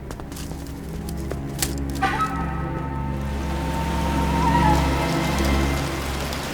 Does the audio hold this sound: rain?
yes